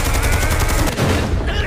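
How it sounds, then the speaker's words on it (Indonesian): A loud, sharp blast with crackling, rapid bursts of noise, like an explosion with debris, in a scene from the film Godzilla Minus One. "Ledakan tersebut rupanya sempat membuat bagian mulut Godzilla terluka"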